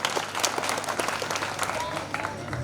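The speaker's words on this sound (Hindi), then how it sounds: "इस बच्चे के लिए जोरदार ताली बजाओ" An audience at a Hindi kavi sammelan poetry gathering claps loudly for a young poet, a dense, sustained patter of many hands with crowd noise and a voice talking over it.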